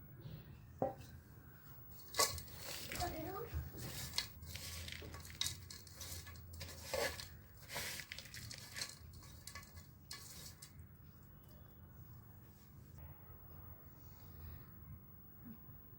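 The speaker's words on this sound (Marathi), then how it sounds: "तर हा गुळ आपण मिक्स करून घेत आहे" A spoon stirs jaggery into a cooked carrot and beetroot mixture in a pan, giving soft scraping and clinking against the metal with light sizzling, fairly faint and irregular, fading toward the end.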